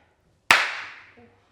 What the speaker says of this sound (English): I'll clap. Can you clap?